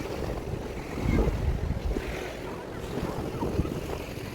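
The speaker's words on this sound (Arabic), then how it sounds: "انا سايبه لكم صوت البحر لان القعدة عليه ممتعة." Sea waves roll onto the beach at a Marsa Alam resort, the Akassia Swiss Resort in Egypt, with a continuous surf wash, a few louder surges and wind buffeting the microphone.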